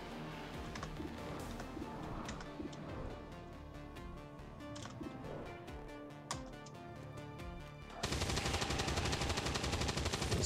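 Rapid automatic gunfire in XCOM 2, a dense stream of sharp cracks and bursts over a busy game soundtrack, ending in a louder sustained volley.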